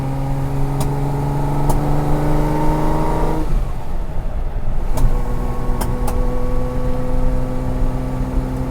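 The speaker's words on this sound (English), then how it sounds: "Carburetors are still a little cold. Popping and spitting a little bit." An old carbureted car with cold carburetors pulls away, its engine revving up in a rising drone, then dropping to a rougher, lumpy note with occasional pops, close and continuous.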